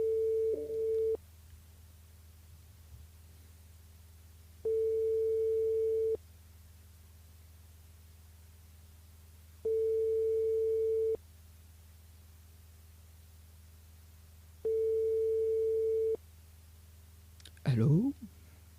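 Repeated telephone ringback tone on a call that goes unanswered, four evenly spaced long beeps with gaps of silence, fairly faint, followed by a brief burst of sound at the end.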